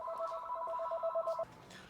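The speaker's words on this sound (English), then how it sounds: "there goes the phone again" An electronic telephone rings inside an auto repair garage, a steady warbling two-tone trill that lasts about a second and a half and then cuts off, leaving quiet shop ambience.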